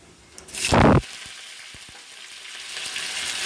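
Fenugreek seeds dropped into coconut oil with already-popped mustard seeds give a loud, brief burst of sizzling, then a steady frying hiss with a few faint pops.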